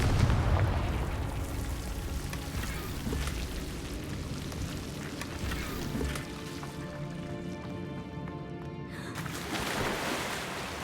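Confringo blasting spell in Hogwarts Legacy: a dense, rumbling explosive roar that sustains loudly throughout, dipping slightly before swelling again near the end.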